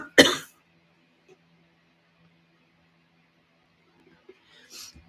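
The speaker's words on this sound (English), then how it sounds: "oh gosh, I hope I'm not going to start coughing" One sharp, loud cough at the start, followed by near silence with faint rustles and a soft breathy sound at the end.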